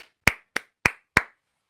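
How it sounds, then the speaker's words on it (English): One person claps four times in a quick, even rhythm, each clap sharp and close, followed by silence. "Round of applause for that."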